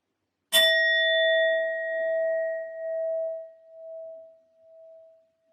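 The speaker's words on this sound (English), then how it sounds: "will be using my sound bowl to clear and set the energy as always" A metal sound bowl is struck once, giving a bright strike followed by a clear, sustained ringing tone that slowly wavers and fades away over several seconds, alone in silence.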